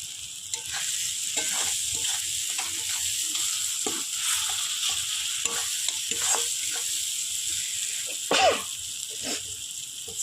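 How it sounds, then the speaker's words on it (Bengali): Chicken ball masala sautés in a pan with a steady hissing sizzle, broken by repeated scraping stir strokes at a regular rhythm and a sharper spattering burst near the end. "একটু কষিয়ে নিচ্ছি মশলাটা ভালো করে, যাতে কাঁচা গন্ধ না দেবে"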